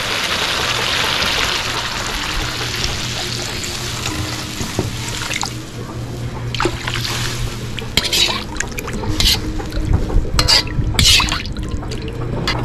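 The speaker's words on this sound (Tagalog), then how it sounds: "Lalagyan na natin ng tubig." Water runs and splashes into a pot while fish sinigang with tomatoes and miso is being cooked, a steady pour followed by sharper drips, clatters and sizzling sounds at close range.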